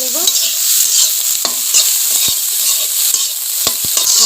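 Rice and egg stir-fried together in a pan, a steady close sizzle with a spatula scraping and stirring through it and sharp clinks against the pan, no voices.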